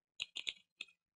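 Typing on a computer keyboard while coding Selenium WebDriver in Java: a short run of four or five crisp, close keystrokes in quick irregular succession, with a fresh keystroke just beginning at the end.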